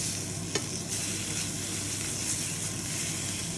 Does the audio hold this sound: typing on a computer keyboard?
no